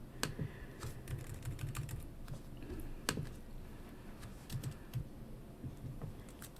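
Quiet keyboard typing with irregular clicks and a few louder key taps, close by, with no voices.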